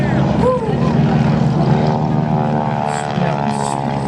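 Propeller airplanes fly a wingwalker display at the Châteauroux air show, a loud, steady engine drone with a shifting whine that fills the whole stretch, while people talk under the noise.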